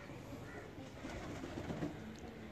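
Teddy pigeons, including a breeder female, cooing in a soft low murmur in a quiet loft, faint and close, with a voice briefly in the background.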